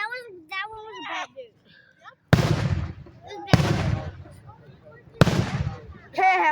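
Fourth of July fireworks go off in three sharp, loud bursts a little over a second apart, each followed by crackling and a rumbling fade, while children chatter excitedly between the blasts.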